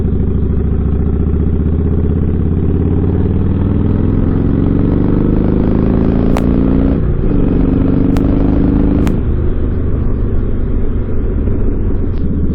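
A Harley motorcycle engine runs steadily and loudly close by, a deep continuous rumble with a brief dip and shift in pitch partway through, plus a few sharp clicks, with no talk.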